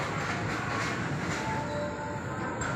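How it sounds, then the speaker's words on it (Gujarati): Steady rumble and rattle of a train moving past near Viramgam railway station, continuous and fairly close with no voices, a faint wheel squeal appearing briefly. "આ બાજુ ટ્રેન જાય છે."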